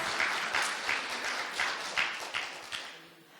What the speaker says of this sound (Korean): 박수 한번 크게 쳐주세요